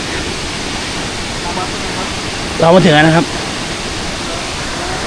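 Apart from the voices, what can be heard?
waterfall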